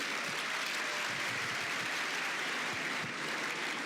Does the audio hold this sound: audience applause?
yes